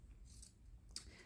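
Scissors snip through fabric near sewn seams and rickrack on a baby activity blanket, a short close rustle ending in one crisp cut.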